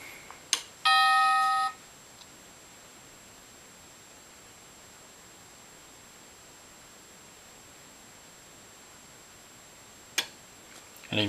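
A second sensor on a wireless motion alarm sets off the chime: one brief electronic tone early on, then a long stretch of quiet hiss, with a couple of faint clicks toward the end.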